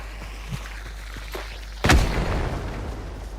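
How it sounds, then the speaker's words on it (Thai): One sharp, booming video game explosion bursts out partway through after a few faint pops, leaving a rumbling tail behind it. "ระเบิด"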